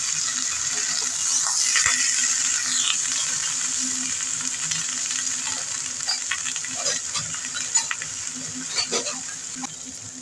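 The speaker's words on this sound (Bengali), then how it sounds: "লাউগুলো দিয়ে দিচ্ছি।" Bottle gourd pieces fry and get stirred in a pan with dry red chillies and whole cumin, giving a steady sizzle with scraping stirs and small clinks throughout.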